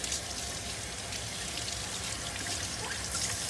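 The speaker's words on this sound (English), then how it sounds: "rinse it out completely" Running water splashes and trickles steadily over a Bissell vacuum part during rinsing, a continuous close hiss with no voices.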